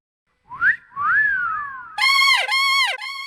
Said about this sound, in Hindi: बजा सीटियां।